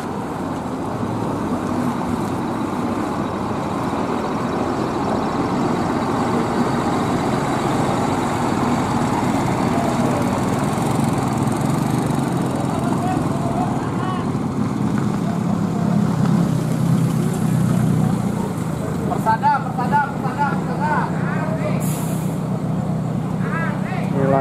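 A long-distance bus engine rumbles low and steady as the bus pulls out of the Kramat Jati terminal, with traffic noise around it and people talking nearby.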